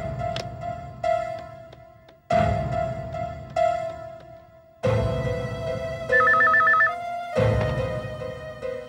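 A phone rings in bursts during an outgoing call, loud and near, each melodic ringtone phrase repeating with short gaps and a brighter trilling passage toward the end; no speech.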